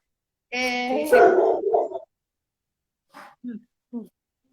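Small female dogs bark and yip close by, a long harmonic burst of barking followed after a pause by three short sharp yips, alone without talk.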